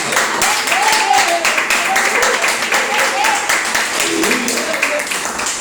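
A church congregation clapping for Jesus during a Portuguese-language service, steady massed applause carrying on throughout with voices and singing mixed in over it.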